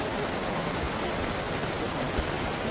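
Downpour of heavy rain in Israel, an unbroken dense roar of falling water close by, steady and even for the whole stretch with no voices.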